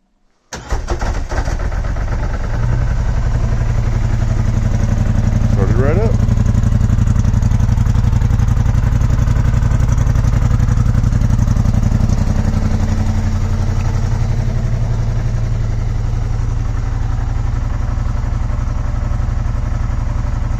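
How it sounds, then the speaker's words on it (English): A Polaris Sportsman 850 Trail ATV engine cold-starts in winter snow, cranking briefly and then catching into a loud, steady, close idle that keeps running throughout with no talk. "this will be the really first cold startup. Let's see how it does."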